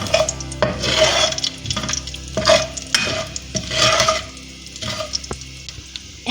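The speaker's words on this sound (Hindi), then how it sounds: "उसी ऑयल में उसी पैन में मैं ये मसाले ऐड कर लेती हूँ।" Spices fry in oil in a pan for bhindi masala, giving a steady loud sizzle under repeated scraping stirs of a spoon against the pan.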